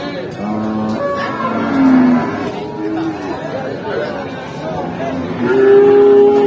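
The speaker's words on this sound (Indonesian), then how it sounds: "Di depan saya sudah ada sapi bakalan si metal." Cattle lowing at a busy livestock market in Jaken, Central Java, a few drawn-out moos rising over steady crowd chatter and nearby voices.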